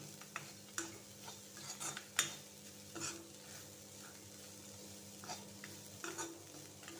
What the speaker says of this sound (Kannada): ಈಗ ಒಂದು 3 ಮಿನಿಟ್ಸ್ ಇದನ್ನು ನಾವು ಫ್ರೈ ಮಾಡ್ಕೊಳ್ಳುವ